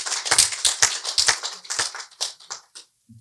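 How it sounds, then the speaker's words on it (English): An audience at a book reading and signing applauds the guest author M.G. Vassanji with a burst of clapping that starts dense, then thins and fades out over about three seconds. "A big round of applause for him"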